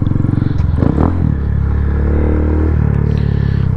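A 2024 Honda Grom motorcycle engine drones steadily while riding, with a low continuous rumble, a brief rise in revs near the start, and wind and road noise throughout.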